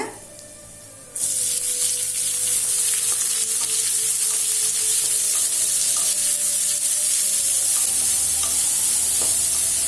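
After a quiet start, onions hit hot oil with chana dal and garlic for a vegetable chutney, bursting into a loud, steady, close sizzle with occasional stirring scrapes, no talking.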